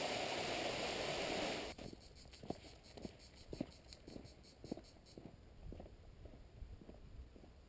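Steady high-pitched cicada buzzing in the opening seconds in Céret, France, then a fainter rhythmic shimmer continues behind intermittent soft clopping steps.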